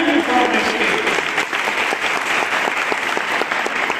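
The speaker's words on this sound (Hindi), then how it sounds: "इन तमाम बहनों माताओं बच्चियों के लिए एक जबरदस्त ताली बजनी चाहिए।" Audience at a faith gathering bursts into loud, dense applause, many hands clapping continuously with some crowd noise mixed in.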